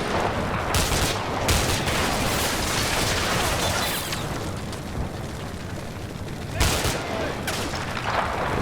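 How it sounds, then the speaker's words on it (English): Rocket and RPG fire slamming into units in the Combat Mission: Cold War game, a dense, continuous roar of blasts and gunfire with several heavier booming impacts standing out, loud and close throughout, no talking. "These rockets are killing me."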